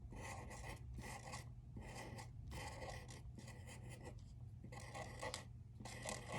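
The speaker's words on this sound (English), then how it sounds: "I'm gonna draw my hair from the side" A pencil scratches across paper in quick rhythmic bursts of strokes with short pauses between them, sketching hair on a self-portrait drawing, close and fairly quiet.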